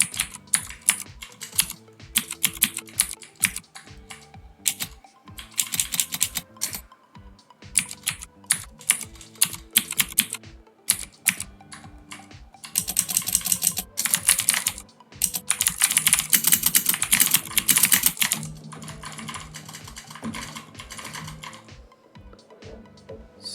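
Fingers type on a laptop keyboard that has been modded to sound mechanical, giving a close, crisp clatter of rapid keystrokes in bursts with short pauses. The typing grows denser and louder for a stretch near the end, and nobody speaks.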